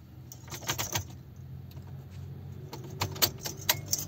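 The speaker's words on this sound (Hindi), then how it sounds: "ये हम चाबी लगाएंगे" A metal key jangles and clicks as it goes into the ignition of a Suzuki Wagon R, a cluster of sharp rattles followed by a few more taps and scrapes, close up with no talking.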